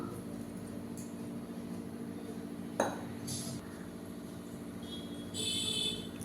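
A metal kadai pan set down on a kitchen stove gives one sharp clank midway, amid faint clinks and a low background hum.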